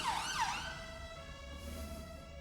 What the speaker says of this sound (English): I'll repeat it because of this siren.